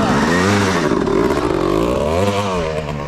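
A Yamaha YZ 125 motorcycle engine revs up and falls back twice, loud and close, its pitch sweeping up and down between the swells.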